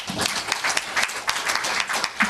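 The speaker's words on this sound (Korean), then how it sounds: "박수로 맞아주시면 감사하겠습니다." An audience at a Korean science and technology ODA policy panel discussion applauds to welcome a speaker, a brief burst of dense, steady clapping from a seated crowd.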